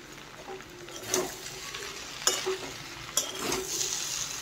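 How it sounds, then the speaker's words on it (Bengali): Masala being stirred as it fries in a pan with a little sugar added, giving a steady close sizzle with a few sharper scraping strokes of the spoon spaced about a second apart, and no talking. "আর একটু নেড়ে চেড়ে মিশিয়ে নিচ্ছি।"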